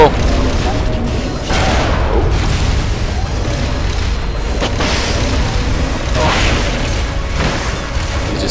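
Rocket fire and repeated explosions in Metal Gear Solid Peace Walker, a dense, continuous barrage of booms and bursts layered over game sound, loud throughout with several sharper blasts standing out.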